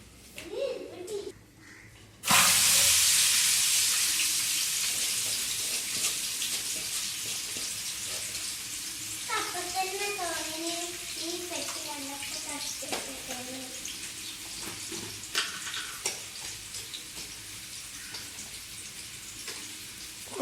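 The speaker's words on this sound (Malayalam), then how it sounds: "ചെമ്പ് ചൂടായിക്കണ്, ഇനി ഉള്ളിടാം" Onions drop into a hot copper pot for biryani, bursting into a loud sizzle that settles into a steady hiss of frying while people talk nearby.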